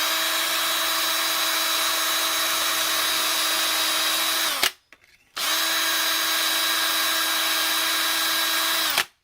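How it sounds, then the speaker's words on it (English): A power drill boring dowel holes for a removable handrail runs at a steady high-pitched whine for about four and a half seconds, stops briefly, then starts again and runs just as steadily, loud and close, with no talking. "Okay, I'm going to drill it again"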